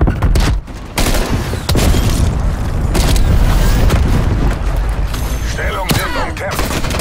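Loud video-game combat in Call of Duty Black Ops Cold War multiplayer, with a grenade blast among booming explosions and bursts of gunfire, continuous and close, under occasional shouted voices.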